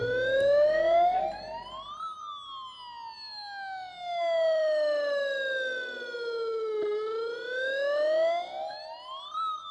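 An ambulance siren wails during an earthquake rescue drill in Nepal, with a loud, close electronic tone sweeping slowly up and down in long repeated cycles, alone and without talk.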